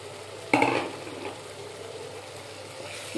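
Large canal prawns hit a pan of hot masala with a sudden sizzling burst, then settle into a quieter fry and stirring, close and fairly soft, with no talking.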